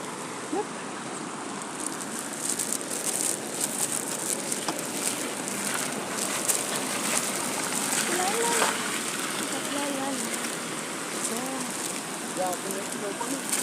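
Swollen river running after a week of nonstop heavy rain, a continuous broad rushing wash with splashing that keeps steady throughout, while a voice talks over it.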